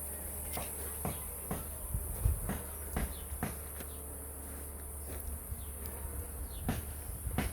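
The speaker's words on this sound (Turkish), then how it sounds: "çekirge sesleri" Steady high-pitched grasshopper chirring fills the outdoor village air, with a few brief clicks and faint rustles scattered through it.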